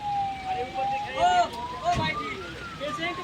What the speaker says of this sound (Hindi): देखिए एम्बुलेंस जा रहा है